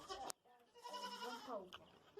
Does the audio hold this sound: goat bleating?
yes